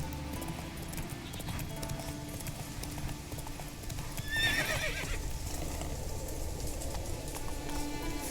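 Horse hoofbeats clip-clop at a steady pace in The Witcher 3 video game, joined by a brief whinny midway, over a continuous low ambient rumble of the game world.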